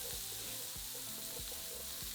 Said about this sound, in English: the smell of onions frying in bacon fat just amazing